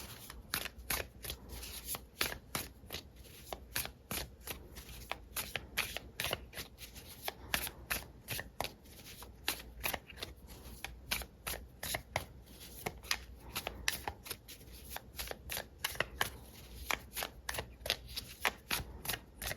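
A deck of tarot cards is shuffled by hand for a reading, giving a dense, steady run of crisp riffling snaps and soft papery clicks, close and fairly loud, continuing without pause and with no talking.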